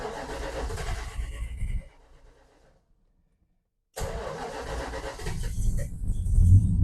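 Engine of a Dodge D100 pickup truck cranking and firing up in cold weather, running loud and close for about two seconds, then a few seconds of silence before it catches again with a rough mid-pitched idle and a slight rev.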